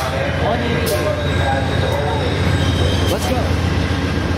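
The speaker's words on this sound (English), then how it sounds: "Here comes the Metrolink now." A Metrolink commuter train arrives at Fullerton station with a loud, close rumble, squealing wheels and a couple of sharp bursts, while a person speaks briefly.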